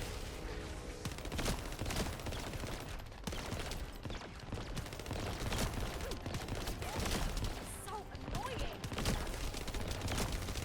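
Sustained gunfire from The First Descendant, with dense rapid bursts and crackling shots layered in a busy game mix throughout, under a continuous bed of effects.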